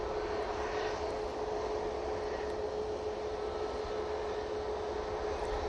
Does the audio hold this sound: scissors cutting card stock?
no